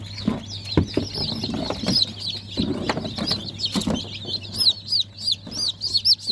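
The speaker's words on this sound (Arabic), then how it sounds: "دول كده 100 كتكوت" Baladi and Fayoumi chicks cluck and peep in a busy, continuous chorus of short chirps, close by over a steady low hum, with no talking.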